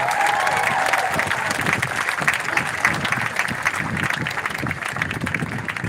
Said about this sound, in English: Give yourselves a round of applause, ladies and gentlemen.